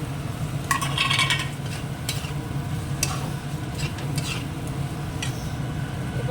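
Curry with tomato and capsicum is stir-fried in oil, producing a low, continuous sizzle broken by scattered clinks and scrapes of a spoon against the pan.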